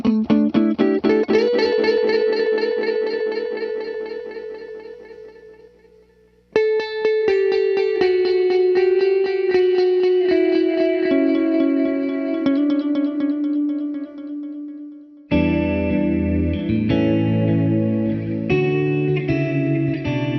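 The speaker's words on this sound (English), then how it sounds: "basically triplets, so that every tap is equally spaced, and it just sounds kind of like it's just going on with the same rhythm forever" An Encounter ambient delay and reverb pedal sets triplet-spaced delay taps repeating evenly behind clean guitar notes and chords, washing into a long reverberant tail across three loud passages with no voice.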